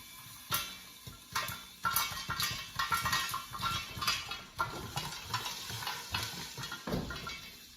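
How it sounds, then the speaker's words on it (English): Kernels of popcorn pop in a lidded pan on the stove while a spoon scrapes and stirs, making a busy run of irregular sharp pops and clatters. "stir as it's popping so nothing gets burned on the bottom"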